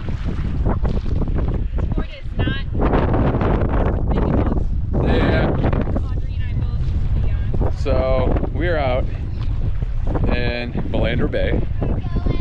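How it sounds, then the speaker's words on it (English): Strong wind buffets the microphone on a beach in Loreto, Mexico, in a constant low roar, with a person talking over it throughout. "Sorry about the wind, if I mean it's also very windy here"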